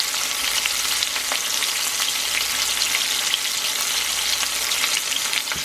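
Squirrel meat fries in a hot pan with a loud, continuous sizzle and crackle, steady throughout with no talking.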